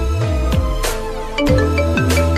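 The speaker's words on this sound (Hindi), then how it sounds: "अरे इस फोन की आवाज फिर से क्यों आने लग गई?" A phone rings with a synthetic electronic melody, repeating tonal notes in a steady pattern, loud and close, with no voices.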